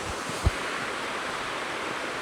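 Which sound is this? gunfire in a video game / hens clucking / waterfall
waterfall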